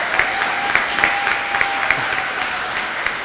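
An audience applauds at a groundbreaking ceremony for a multi-modal transportation hub, with steady clapping spread through the crowd and a few sharper individual claps standing out now and then.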